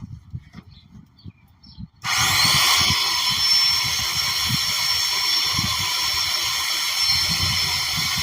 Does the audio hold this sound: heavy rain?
no